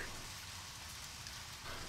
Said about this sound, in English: it's raining with clear skies